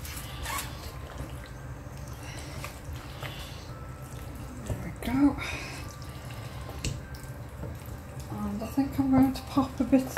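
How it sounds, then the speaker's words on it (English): Water is splashed into a pan of simmering korma sauce in a home kitchen, with a short trickling pour and light drips under nearby talking. "I'm just going to pop a bit of water in."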